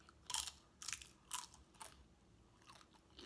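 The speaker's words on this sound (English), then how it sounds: "Sometimes Chipotle chips be a little salty and be a little lacking with the crunch" Crunchy Chipotle tortilla chips bitten and chewed up close, with four or five sharp, loud crunches spaced about half a second apart and softer chewing between them.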